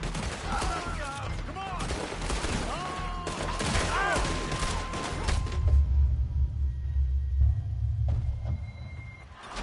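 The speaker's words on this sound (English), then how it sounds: "Just keep shooting!" Rapid gunfire crackles in a Red Dead Redemption 2 shootout at an old house, dense volleys of shots over a low rumble, while someone shouts briefly and game music and voices carry underneath.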